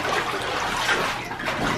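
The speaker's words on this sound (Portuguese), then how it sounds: "eu nadando super rápido, dando várias voltas aqui" Water splashing and churning in a home swimming pool as someone swims fast laps, a steady broadband wash of sloshing water lasting throughout, close and fairly loud with no talk.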